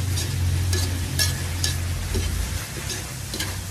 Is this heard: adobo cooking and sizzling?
yes